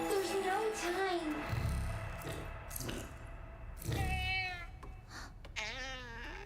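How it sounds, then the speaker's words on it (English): Cat meowing inside the video game Pragmata, several drawn-out, wavering meows rising over a low background score, with a spoken voice in between. "Oh, it's turned back into a cat."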